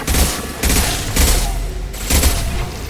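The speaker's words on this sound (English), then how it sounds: "Firing an impact shot!" Impact-shot gunfire in the sci-fi shooter Mass Effect 2 Legendary Edition: four heavy, booming bursts spaced roughly evenly apart, loud and close with a rumbling low end and no voices.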